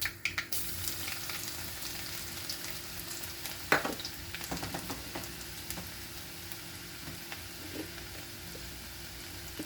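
Garlic and cumin seeds frying in oil for a spinach and lentil curry, giving a steady close sizzle with a few sharp clicks of a spoon against the pan and no talking.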